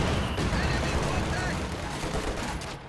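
Heavy mortar fire in a World War II strategy game, a dense, continuous barrage of booming blasts and crackling gunfire close up and loud, with a voice talking faintly underneath.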